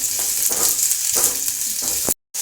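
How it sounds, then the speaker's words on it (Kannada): Onions frying in a spoonful of oil for a village-style egg sambar, a steady close hiss with a few louder sizzling bursts, then a sudden short silence near the end. "ಈರುಳ್ಳಿ ಸ್ವಲ್ಪ ಫ್ರೈ ಆಗಲಿ"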